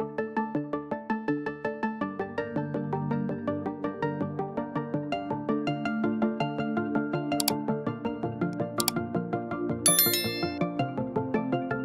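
Bright, ringing notification-bell chimes repeat in a quick, steady pattern over a layered musical jingle, closing an Indonesian TV news segment; a few sharper high dings stand out near the end, with no talking.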